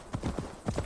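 Horse hooves clip-clop in a steady rhythm as a slow mount climbs a mountain in Assassin's Creed Valhalla, a run of close, even hoof strikes with a faint voice underneath.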